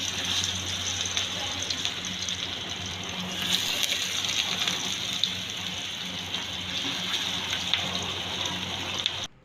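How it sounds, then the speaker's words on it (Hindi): Oil heats on a tawa griddle for frying shami kabab patties, a steady, rain-like sizzle and crackle running close and unbroken throughout. "अब ऑयल डाल रहे हैं, तवे में गर्म हो जाए, फिर हम ये टिक्कियाँ फ्राई करेंगे इसमें।"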